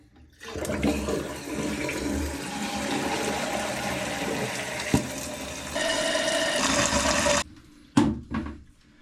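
A household toilet with a newly replaced fill valve flushes with a loud rushing whoosh, then the tank refills with a steady hissing flow that cuts off near the end, followed by a couple of faint knocks.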